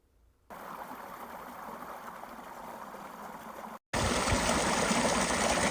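Water gushes steadily from a tubewell, a dense continuous rushing hiss that starts abruptly, breaks off for a moment, then resumes louder and brighter, with no voices over it.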